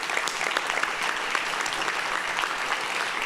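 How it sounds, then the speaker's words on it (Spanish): Church congregation clapping during a Spanish-language worship service, a dense, steady wash of applause filling the room for about three seconds, with no speech over it. "Dele palmas al Señor."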